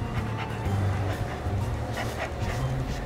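A dog pants and gives soft yips and whimpers close by, in short irregular bursts over a steady background hum.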